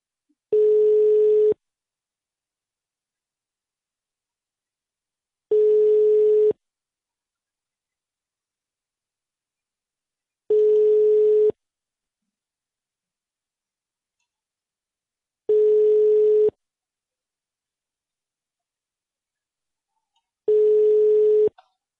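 An unanswered phone call rings on the line with five identical low, steady tones. Each tone lasts about a second and is separated by roughly four seconds of silence, and no one speaks.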